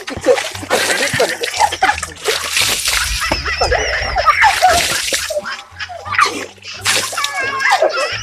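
Water splashing and sloshing while a goat is bathed outdoors, continuous loud splatter under excited voices talking and laughing.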